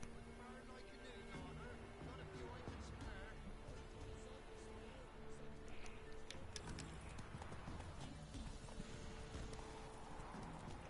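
Rhythmic clip-clop of horse hooves in The Witcher 3 video game, a steady galloping beat running through the whole stretch beneath game ambience and quiet talk.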